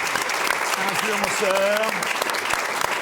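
Studio audience applause on a French TV talk show, a steady, loud wash of clapping under the host's voice as a guest is introduced.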